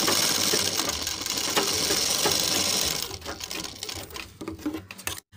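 A sewing machine stitches along the neck edge of a half collar, a rapid steady mechanical clatter for about three seconds that then breaks into short, uneven bursts with fabric handling noises.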